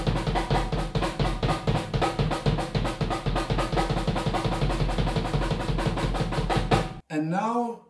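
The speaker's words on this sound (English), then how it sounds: "play the bass drum and then the snare drum" A fast, steady drum beat alternating bass drum and snare drum with no hi-hat, continuous and even, ending with a brief voice at the close.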